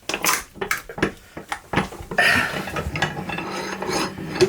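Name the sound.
arbor press crushing a tin can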